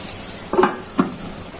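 Potatoes frying in a pan for a beef tripe fry, with a soft steady sizzle and two short spatula scrapes or knocks close by, no talking.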